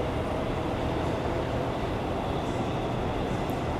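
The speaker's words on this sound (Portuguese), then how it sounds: "Ó, tá chegando um trem, mas não é o meu" Inside a moving passenger train, a continuous, even rumble of wheels and carriage noise fills the whole stretch without any voices.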